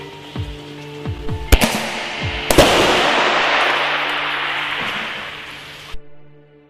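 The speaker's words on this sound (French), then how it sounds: "c'est la grenade qui va créer un flashbang à l'impact sur une surface dure" Archangel airsoft flashbang grenade from Tactical Game Innovations set off on impact against a hard surface: a few light taps and clicks, then two sharp cracks that release a long, loud hissing rush lasting several seconds before cutting off.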